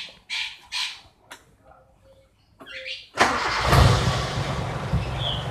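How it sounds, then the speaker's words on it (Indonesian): A points-ignition car converted to a camouflage CDI unit cranks with a few short starter bursts, then the engine catches and settles into a loud, steady idle close by. "Ini langsung diuji coba di starter, dinyalakan."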